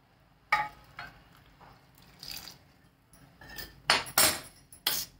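A spoon clinks and scrapes against a bowl in scattered, uneven strokes while boiled water is stirred into rice and roasted gram flour for murukku dough. The strokes grow quicker and louder toward the end.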